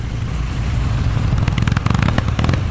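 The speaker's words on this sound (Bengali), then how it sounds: "হঠাৎ বাইকটার গতি কমতে কমতে একেবারে থেমে গেল।" A cartoon motorcycle engine runs loud and close, a steady rumble that turns into rough, sputtering pulses as the bike slows.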